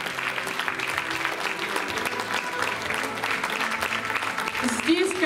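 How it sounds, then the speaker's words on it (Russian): A concert audience at the Akademiya cultural centre in Novosibirsk applauds steadily throughout a festive anniversary concert, with dense clapping filling the hall while a voice speaks over it. "Здесь, конечно, большие аплодисменты вам."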